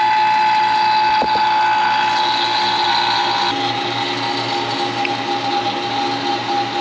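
A vacuum pump evacuating the air-conditioning system of a 2015 Mitsubishi Outlander runs continuously with a steady, loud buzzing drone and a faint whine, unchanging throughout.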